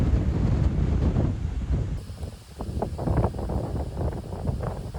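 Strong headwind buffeting the microphone while cycling on flat roads in the Netherlands, a loud, continuous rushing roar that rises and falls in gusts, with no other sounds.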